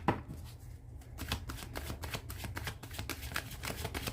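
Tarot cards shuffled by hand in a quiet room, a steady run of soft riffling and slapping flicks after a brief pause at the start, close and clear with no talking.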